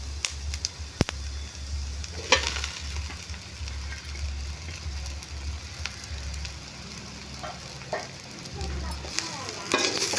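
Mashed idli and onions fry in a pan for idli upma, a steady sizzle with occasional scrapes and stirs of a spoon against the pan, close and continuous.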